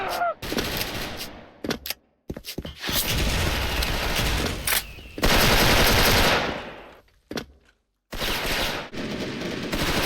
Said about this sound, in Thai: ผมโดน FN ยิงไปแค่นิดเดียวเองครับ